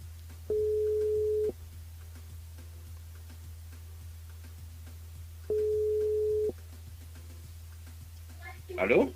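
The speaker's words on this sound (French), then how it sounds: "on appelle Nicolas du côté de la possession dans le jeu le ni allô ni bonsoir" Telephone ringing tone heard while a radio show calls a listener: two steady one-second tones about five seconds apart over a low hum, followed by a brief noisy burst at the end.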